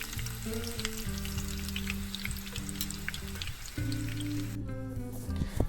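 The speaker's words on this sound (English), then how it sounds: "So the first thing I want to do is fry them in hot oil." Hot oil frying ingredients for Mexican pork and beans, a close bright crackling sizzle with scattered pops over a low steady hum, without pause.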